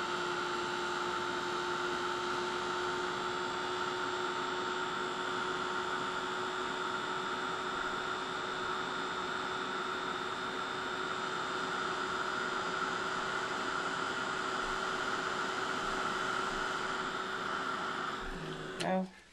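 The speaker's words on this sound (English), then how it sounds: "Using quite a quiet heat gun, it's called Heat Buddy Craft Tool." A quiet Heat Buddy craft heat gun runs with a steady, even electric hum and airy whoosh, continuous at moderate level before cutting off near the end.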